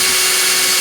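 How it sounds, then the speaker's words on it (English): Power drill boring holes in PVC pipe with a small bit, a steady, loud, high whine that holds unbroken throughout at close range. "Then I drilled holes in the side, starting with a small drill bit for the pilot hole"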